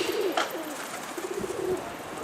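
Pigeon cooing near a rooftop coop where keepers watch their flock, a few soft low throaty coos in close succession over steady background noise with no talk.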